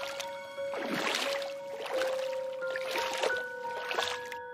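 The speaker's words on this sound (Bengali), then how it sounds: "রথিন মাঝি দাঁড় চালাতে লাগলো ধীরে ধীরে।" A boatman slowly rows with oars, each unhurried stroke bringing a soft watery swish and trickle, repeated about four times in a calm, even rhythm over a sustained musical tone.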